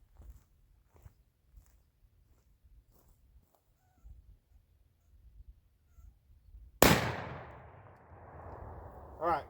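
A Panzer EG200 shotgun fires a single loud buckshot blast, close by, after a stretch of quiet with faint movement sounds, followed by a decaying rumble and a short higher clatter near the end.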